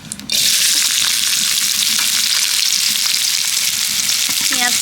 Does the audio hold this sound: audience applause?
no